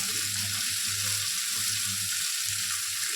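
Carrots and yardlong beans hit a hot frying pan with oil, setting off a loud, steady sizzle that holds evenly throughout with faint stirring beneath and no voices.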